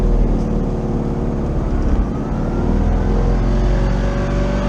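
A classic Fiat 500 accelerating hard, its small engine droning loud and steady throughout with a slight rise in pitch, heard up close from inside the car.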